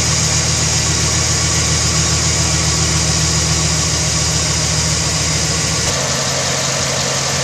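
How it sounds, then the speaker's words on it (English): A 2008 Chevrolet Silverado with a 5.3L V8 idles smoothly and loudly up close after a spark plug and wire change, holding a steady low rumble throughout, with a slight shift in tone near the end. "It's idle at 600 RPM"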